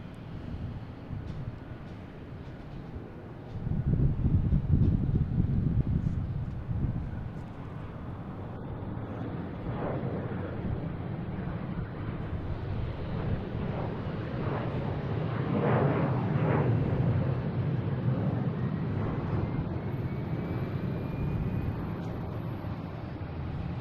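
Jet airliner taking off at Boston Logan International Airport, a broad distant roar swelling and rumbling over about twenty seconds, heard from outside with no talking.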